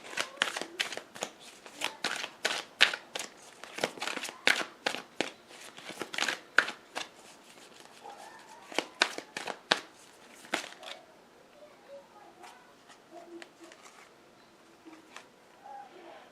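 Oracle cards are shuffled by hand in rapid bursts of crisp riffling and flicking, dense at first and then thinning to scattered soft card handling, with no talk over it.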